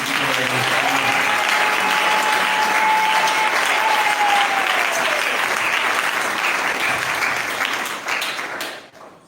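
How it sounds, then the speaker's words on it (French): An audience at a church service applauds, a dense sustained wash of clapping that holds steady for several seconds before thinning out and fading at the end, with faint voices underneath. "Acclamons une fois de plus."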